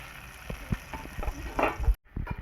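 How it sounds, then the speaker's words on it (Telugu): Paneer fries in ghee in a pan, a soft crackling sizzle with small irregular pops and bursts, fairly close, with a brief gap near the end. "పన్నీర్ వేగుతుందండి."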